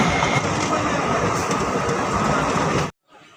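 A crowded passenger train runs with a loud, steady rumble and wheel rattle, close and continuous, with voices mixed in, before cutting off abruptly near the end.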